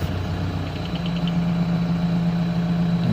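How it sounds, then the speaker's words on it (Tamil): Idling engine of a vehicle parked across a forest road near Topslip, Pollachi, a steady low rumble with a mid-range hum running evenly throughout, fairly close and continuous with no voices. "அந்த ஆப்போசிட்டில் வண்டி நிற்கிது"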